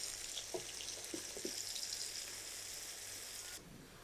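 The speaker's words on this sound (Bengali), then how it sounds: "পেঁয়াজটাকে আমি বেরেস্তা করে নিব।" Sliced onions fry in hot oil in a pan as they brown for a fish rezala, a steady soft sizzle close by with a few light clinks, easing off near the end.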